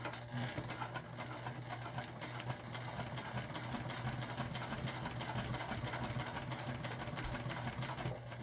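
A sewing machine runs steadily, stitching binding onto a fabric travel pouch, with a constant motor hum and a rapid needle chatter that carries through the whole stretch with no pauses.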